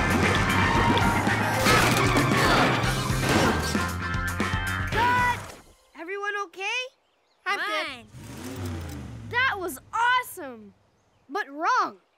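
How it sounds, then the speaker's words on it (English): A cartoon toy car from Tonka Chuck and Friends crashes into traffic cones, heard as a loud smash and engine rush over music, followed by animated child-like voices talking. "you were supposed to crash into those tires, not the cones"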